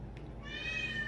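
An unhappy house cat named Salem lets out a drawn-out, rising meow, close and fairly clear, over a low indoor background hum.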